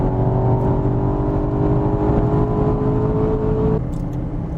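Aston Martin DBX, 550 horsepower, at full throttle: a loud, close engine roar climbing steadily in pitch, then dropping off abruptly near the end as the revs fall away.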